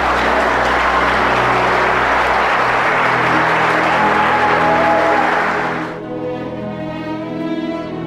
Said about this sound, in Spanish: El aplauso es más débil.